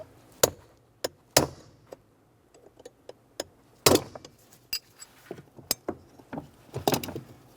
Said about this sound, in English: Let's see if I can get it with a couple of good punches with a hammer.